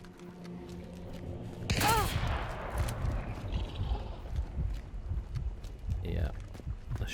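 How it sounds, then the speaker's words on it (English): A single loud gunshot cracks out in the Hunt: Showdown game world, ringing and echoing briefly before fading into rustling ambient game noise and footstep-like shuffles. "Yeah, a shot."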